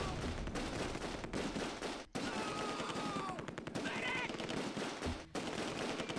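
MG42 machine gun fire in the World War II game Close Combat II, loud continuous rattling bursts broken by brief pauses, with other battle noise mixed in.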